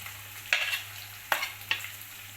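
Green chilli, carrot and onion frying for semiya upma make a soft, steady sizzle close by. Three sharp spoon scrapes against the pan stand out above it, with no one talking.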